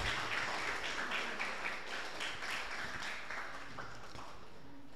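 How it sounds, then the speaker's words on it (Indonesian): An audience at a young entrepreneurs' intensive training session claps, a sustained crowd applause that gradually thins and fades toward the end, moderately distant. "Tepuk tangan semuanya."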